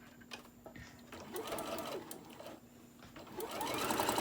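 A sewing machine topstitches a small fabric tote bag, with a quiet, close, whirring run of stitching that stops and restarts and builds toward the end.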